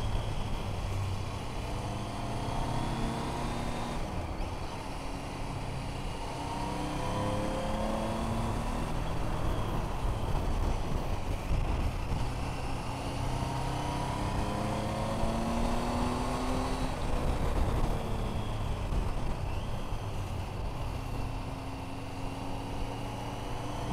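Triumph Tiger 800 motorcycle riding up a mountain pass, its engine droning steadily and close with shifting revs throughout, accompanied by constant wind and road rush and no talk.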